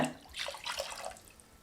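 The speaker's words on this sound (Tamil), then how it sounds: "ஒரு கப் அளவுக்கு இளநீர் தண்ணியை நல்லா கட்டிகள் இல்லாமல் கார்ன்ஃப்ளவர் மாவை கரைச்சி விடுறதுக்கு ஊற்றிக்கலாங்க" Tender coconut water is poured into cornflour in a bowl, making a short, quiet liquid splash and trickle that fades out.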